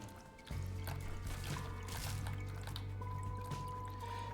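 Watery bubbling and dripping from The Binding of Isaac Afterbirth+, continuous gurgles and small pops over a low steady game hum and faint tones, no voices.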